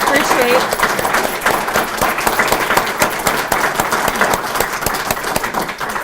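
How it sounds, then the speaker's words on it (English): Audience applause for a library panel at a Cumberland County Library System meeting, dense steady clapping from a room of people, loud and continuous throughout, with some talk beneath it. "We give a round of applause to all of them"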